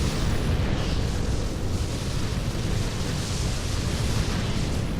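Torpedo explosions in the space strategy game Sword of the Stars merge into a continuous, loud, dense roar of booming blasts without clear breaks, filling the whole stretch.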